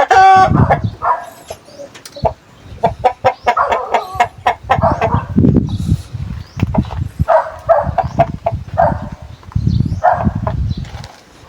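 Several Basilan-bred chickens cluck and squawk close by in a busy, continuous chatter, with occasional higher calls cutting through.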